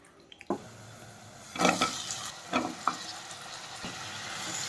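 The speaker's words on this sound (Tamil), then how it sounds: "இப்போ குட்டி குட்டியாக கட் பண்ணி வச்சுருக்க கத்திரிக்காய் சேர்த்துக்கலாம்" Chopped brinjal tipped into hot oil with softened onions, crackling in a steady sizzle with a few louder bursts and stirring scrapes, close by and with no voices.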